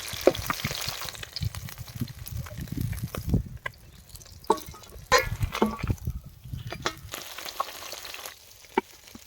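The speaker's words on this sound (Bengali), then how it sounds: "মাছগুলোকে আমরা ধীরে ধীরে হালকা লাল করে ভেজে নেব" Katla fish pieces frying in oil, a close bubbling sizzle with irregular crackles and pops that rises and falls, with no talking.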